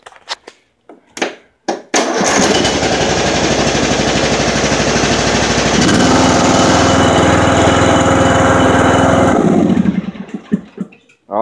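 Timecutter riding mower engine cranks after a few short clicks and knocks, then runs loud and close with a steady rough drone, rising slightly in pitch as it is throttled up, before cutting off and sputtering to silence.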